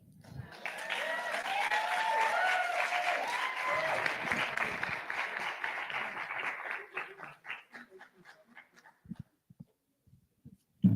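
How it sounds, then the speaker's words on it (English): Sustained audience applause for a panel at an arts salon, a dense wash of many hands clapping that builds quickly, holds steady, then thins out into scattered claps before fading. "can we please give a round of applause for our panel"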